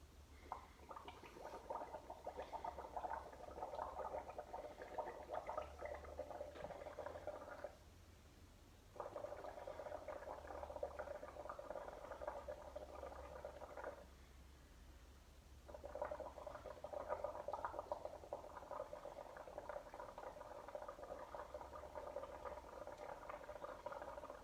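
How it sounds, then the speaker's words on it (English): Air blown through a straw into a mix of pottery glaze and soap gives a steady bubbling gurgle in three long bursts, with two short pauses between them. "and then blow bubbles"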